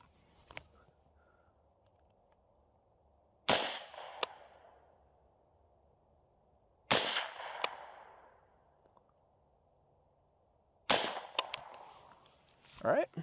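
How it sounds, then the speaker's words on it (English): Three suppressed shots from an AR-15 rifle ring out several seconds apart, each a sharp crack with a short decaying tail, heard alone against a quiet outdoor background. "I'm going to shoot 3 rounds and we'll see where I'm at."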